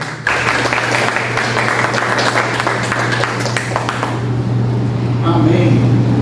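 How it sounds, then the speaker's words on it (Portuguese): A church congregation applauding during a Sunday service, with sustained dense clapping for about four seconds that thins and fades, then a voice over a steady low electrical hum. "uma salva de palmas para o Senhor Jesus."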